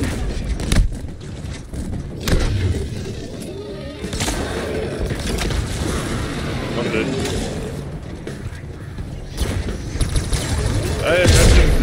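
Rapid gunfire and combat effects from a Halo Infinite co-op campaign battle, dense bursts and booms running throughout the fight, with players talking over the action.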